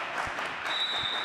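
Cheering and clapping from the bench players at a Serie B men's volleyball match, Treviso against CUS Trieste, a broad steady crowd noise held for the whole moment without clear individual voices.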